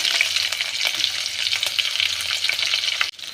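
Mustard seeds, cumin, curry leaves and green chillies fry in hot oil with a dense, steady crackling sizzle heard close up. The popping continues throughout and stops abruptly near the end, with no talk.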